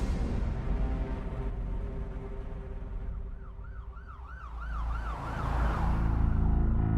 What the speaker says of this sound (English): Philippe Frisson, pulled up to the hospital with the sirens on